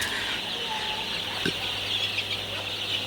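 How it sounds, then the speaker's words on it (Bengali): A shed full of Sonali super hybrid chicks gives a steady, dense chorus of cheeping and peeping, continuous and moderately loud with a low hum beneath it. "আমার সোনালি সুপার হাইব্রিড মুরগির বাচ্চা এখন ঘরটা ভরে গেছে"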